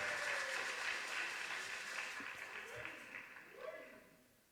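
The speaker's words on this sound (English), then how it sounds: "Shall we welcome him with a clap?" An auditorium audience at a student leadership conference welcomes the speaker with applause that fades gradually, while some faint voices and speech-like sounds rise near the end.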